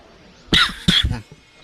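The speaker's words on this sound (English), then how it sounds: "I've been having a bad cough lately" Two sharp, loud coughs close to the mic in quick succession, followed by a faint softer rasp.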